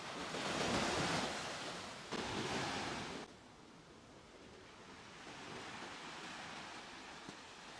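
Surf breaking on a muddy, shallow shoreline in Penang, a broad steady wash of water that swells loudly for the first few seconds, drops away, then continues softer with some wind noise.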